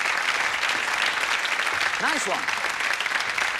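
A studio audience at a televised magic show applauds volunteers with dense, steady clapping that fills the room, while someone briefly speaks over it.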